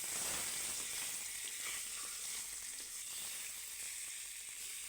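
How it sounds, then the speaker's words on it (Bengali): Rupchanda fish fries in hot oil in a kadai, a continuous bright sizzle with fine crackling and spitting, fairly close and even throughout, with no voices. "দেখুন কি সুন্দর হয়েছে মাছ ভাজা হয়ে গেছে"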